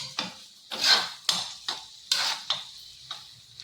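A utensil stirs egg bhurji with coriander in a pan, sounding as a series of close scraping strokes with brief rasping bursts at an uneven rhythm and a light sizzle underneath.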